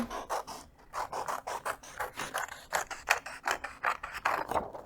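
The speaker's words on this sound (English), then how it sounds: "Then you're going to cut your circle out." Scissors snipping through paper to cut out a circle, a rapid close run of short crisp cuts and rasping slides, fairly quiet with no talk.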